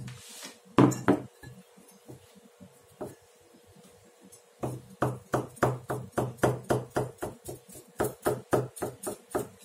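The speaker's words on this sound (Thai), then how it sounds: "หั่นไข่ก่อนนะ" A knife slicing a boiled egg knocks repeatedly against a cutting board in a quick, even rhythm of sharp clicks, with a few scattered taps first.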